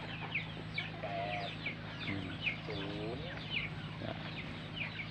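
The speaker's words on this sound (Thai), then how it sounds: "บรรยากาศที่ฟาร์มไก่บ้านนะครับ" Free-range farm chickens cluck steadily at a moderate distance, with overlapping calls from many birds and a few longer squawks over a constant low background hum.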